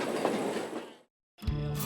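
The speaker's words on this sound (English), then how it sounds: "We're loading up the mini train to do some birding in Alma." A mini train carrying riders for birding in Alma, Wisconsin rolls along with a steady rumbling clatter that stops abruptly, then a short burst of rattling motion resumes after a brief gap.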